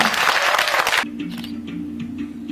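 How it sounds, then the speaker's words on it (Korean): An audience at a forum lecture on coexistence and unification applauding in a dense, loud burst for about a second, then breaking off into softer scattered claps over a low steady hum. "뜨거운 박수 부탁합니다"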